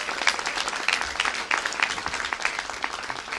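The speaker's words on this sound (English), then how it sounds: "please give them a round of applause" An audience applauds after a governor's remarks on Illinois healthcare protections, with scattered, moderately loud claps and brief spikes over a few seconds, steady with no talk over it.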